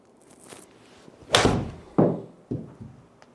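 A high-handicap golfer's club strikes the ball: three sharp, solid thwacks close by, each ringing briefly before fading, with quiet gaps between them and no talking.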